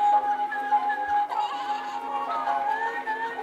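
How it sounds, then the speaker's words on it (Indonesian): A Little Live Pets toy lamb, My Pet Lamb Snowy, gives an electronic bleat, a sustained wavering tone that carries on for several seconds at moderate volume, with no talking over it. "ini adalah Little Life Pet, My Pet Lamb Snowy. Ini lucu banget guys, dia tuh anak domba dan bisa jalan dan menari."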